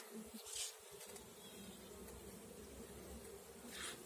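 A steady, low hum of many honeybees buzzing close by at an open hive with brood frames, continuous and dense, with faint rustling and no speech.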